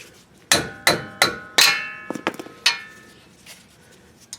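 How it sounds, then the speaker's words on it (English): A mallet strikes a wrench to loosen a bolt during a front wheel hub replacement on a 2007 Dodge Durango, giving about seven sharp metallic clangs at uneven intervals, close and loud with ringing decay. "I'm just going to try it with the wrench and the mallet."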